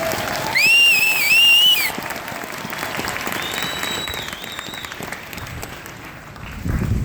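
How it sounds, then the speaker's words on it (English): A crowd at a US Army infantry graduation for Echo Company, 2nd Battalion, 54th Infantry claps and cheers for cadre and drill sergeants, with whistles rising briefly early on over steady, moderately loud clapping. "please join me in a round of applause for the cadre and drill sergeants of these three regiments"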